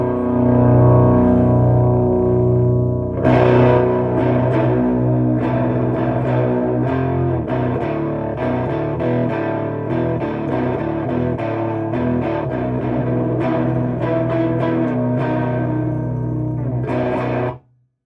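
An electric guitar plays chords and runs through a slightly gritty Snk Pedals ThVnderCr4cker hybrid amplifier, clean notes just starting to break up, loud and sustained with a short quiet intro.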